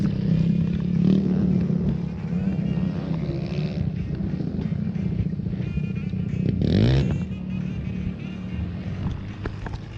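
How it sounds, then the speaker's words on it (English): Quads, motorcycles and side-by-sides drive past on a trail, engines droning at moderate distance with rising and falling pitch, one passing louder near the middle, plus some wind buffeting on the microphone. "We got quads, motorcycles, and side-by-sides."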